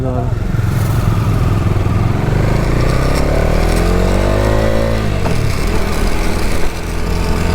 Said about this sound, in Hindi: तो भाई बाइक अपनी हो चुकी है रेडी और अभी लेके निकले हुए हैं।